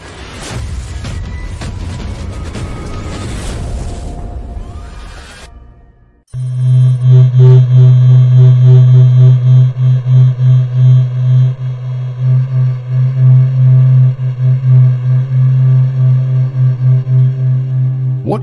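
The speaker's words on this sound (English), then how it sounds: "What you just heard is the heartbeat of the Sun, captured by NASA's Solar Heliospheric Observatory." The Sun's low pulsing hum, recorded by NASA's SOHO solar observatory, throbs in a steady loud rhythmic drone after a few seconds of mixed noise, and the deep beating swells repeat evenly until the end.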